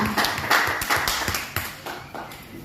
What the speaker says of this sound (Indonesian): kita beri aplaus yang meriah untuk tim kontra